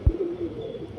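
A Giribaj pigeon gives a brief low coo close up, a soft throaty warble lasting under a second after a small thump.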